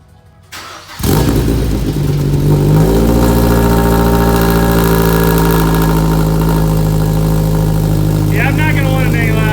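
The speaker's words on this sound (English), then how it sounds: "I hope to make Takumi proud. Bunta 2. First start." A Mazda Miata swapped with a Ford Fusion engine fires up for its first start: a short crank, then a loud, steady, rumbling idle through a muffled exhaust, close by with no talk over it.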